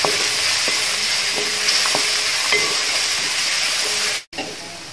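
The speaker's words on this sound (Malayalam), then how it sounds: "ഇപ്പോൾ ഒന്ന് വറുത്തു" Sliced onion and grated coconut sizzle loudly in a hot pan for onion chutney, with a spoon scraping and stirring in a steady rhythm before a brief cut near the end.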